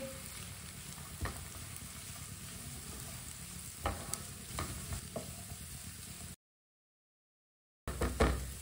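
Finely chopped cabbage, grated carrot and chopped capsicum being mixed together for kebabs, heard as a quiet, continuous rustle with occasional spoon taps, a brief dead-silent gap, then more rustling.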